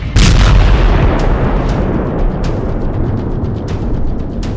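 Nighttime US military strike on an Iranian weapons depot in Syria: a loud opening boom followed by a dense rumbling roar with repeated sharp bursts, like sustained artillery fire.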